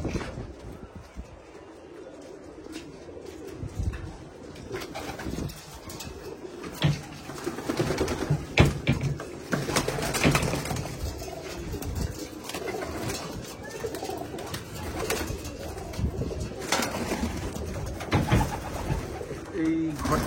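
Pigeons coo in an indoor room, their layered low calls overlapping from several birds, with rustling, wing flutters and occasional knocks, someone talking intermittently in between.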